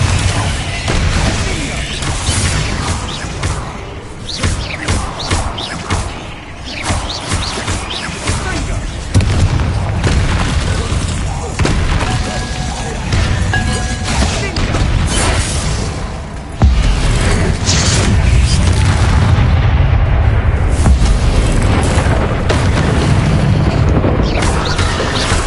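Bombarda spell explosions in Hogwarts Legacy roar as sustained, loud booming blasts layered with crashing debris and combat noise, growing heavier in the later half.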